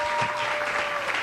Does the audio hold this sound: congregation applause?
yes